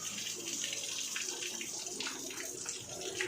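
Coolant and water gush and splash steadily out of the radiator of a 2023 Isuzu Mu-X with an RZ4E engine and an overheating problem, a continuous close rushing flow with no break.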